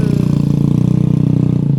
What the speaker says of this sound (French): j'attends la moto